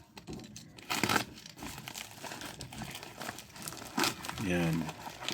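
Plastic packaging for a HUD head-up display speedometer crinkles and tears close up as it is opened, a few crumpling bursts with a voice speaking briefly near the end.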